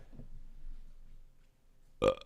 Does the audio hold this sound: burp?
yes